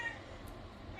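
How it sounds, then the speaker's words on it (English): A house cat meows faintly in a home kitchen during cooking, a brief soft call above low background hum, no talking. "my cat's meowing"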